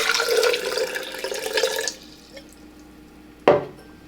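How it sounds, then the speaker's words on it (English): Water pours into a glass vessel for about two seconds, then stops; after a short pause a single sharp clink rings out. "It is time to pour some water in the vase."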